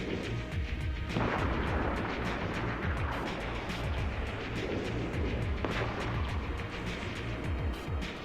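Spaceship weapons firing in the EVE Online space game, a dense, continuous barrage of booming and crackling shots with a rapid, steady rhythm throughout, loud and up close.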